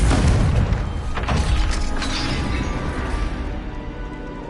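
A Confringo blast spell detonating in Hogwarts Legacy, a loud booming burst with crashing debris that rolls on and slowly fades over several seconds.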